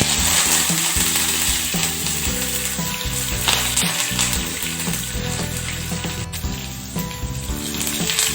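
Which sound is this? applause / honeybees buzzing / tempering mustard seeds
tempering mustard seeds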